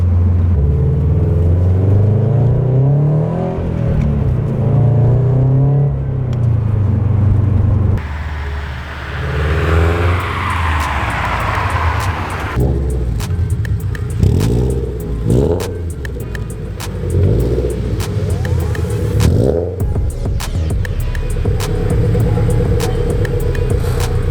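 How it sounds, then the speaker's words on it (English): A car's GReddy EVOlution GT exhaust rumbles deep and loud, with repeated revs swelling and dropping over a throaty, low idle, close by. "Loud. A loud rumble."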